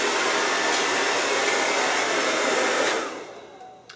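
A hair dryer blows on short hair with a loud, steady close-up roar for about three seconds, then the airflow drops away and fades as it is switched down, leaving faint handling noise and no speech.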